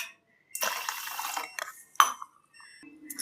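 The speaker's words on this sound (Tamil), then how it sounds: "தண்ணி ஊற்றி நல்லா கழுவிக்கலாம்." Varagu millet rice being washed in water, with splashing, swishing and sloshing in a vessel, a few brief clinks of grain and container, close and intermittent.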